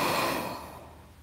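Steady breath during a yoga practice, a single long soft exhale that fades out over about a second, close and alone.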